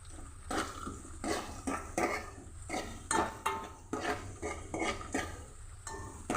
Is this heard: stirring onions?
yes